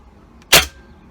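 A single sharp rifle shot fired while zeroing a scope, preceded by a faint click; one short, loud crack that fades quickly into quiet.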